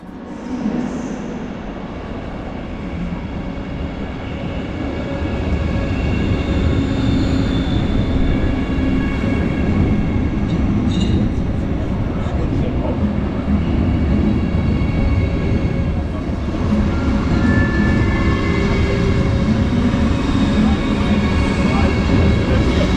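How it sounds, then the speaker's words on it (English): An ICE3 Neo high-speed train pulls into Cologne main station, a steady rolling rumble of wheels and carriages with faint high-pitched tones over a continuous loud bed of station noise, as a pair of coupled units arrive. "we can now take a look at the arrival of my train of the type ICE3 Neo"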